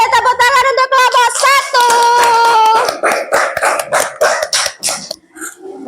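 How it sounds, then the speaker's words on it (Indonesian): Classroom applause from fifth-grade pupils for a presenting group, dense rapid clapping mixed with children's voices and cheering, loud and close, thinning out toward the end. "beri tepuk tangan untuk kelompok"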